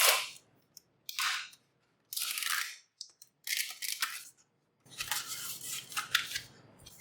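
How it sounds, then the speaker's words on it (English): Crinkly plastic blister packaging of a Logitech M235 wireless mouse is peeled open from the back, giving several close, sharp crackling and tearing bursts with brief silent gaps between them. "let's remove the mouse from the cover. We need to peel from the back side like this."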